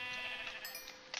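A brown sheep bleats in a video game, a single wavering, nasal bleat up close, trailing off into a few faint clicks near the end.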